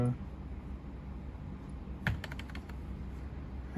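Quick, light keystrokes of commands typed on a computer keyboard while drafting in AutoCAD, a short burst of clicks near the middle over faint room noise.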